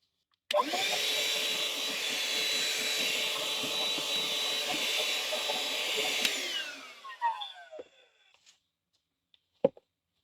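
A vacuum or blower clearing dust out of a freezer unit runs loudly and steadily for several seconds, then winds down with a falling whine, followed by a few clunks and a sharp click.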